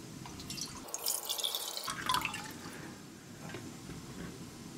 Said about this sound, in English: so we'll use about 2 cups of boiling water